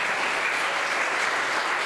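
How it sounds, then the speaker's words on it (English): A church congregation at a Lutheran service applauds in a dense, steady wash of clapping that holds at an even level throughout with no voices over it. "Let's all show a sign of acclamation and applause"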